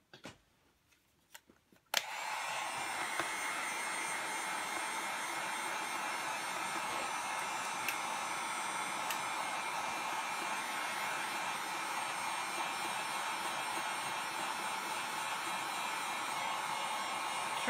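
A hair dryer drying a layer of paint on a mixed media tag, switching on after a couple of faint clicks and then blowing with a steady, even whoosh right to the end.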